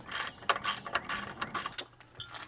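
Close ratcheting clicks from a wrench loosening a 12 mm bolt on a 10th-gen Honda Civic sedan horn come in quick uneven bursts, then taper off, with no talking.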